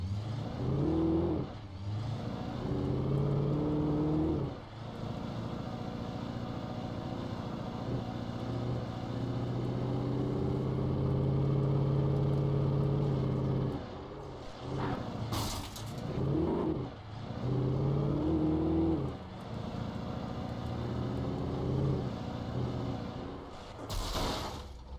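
Car engine while driving in the Alan Wake video game: a steady, close motor drone that rises and falls as the engine revs, with brief dips and a few sharp clunks along the way.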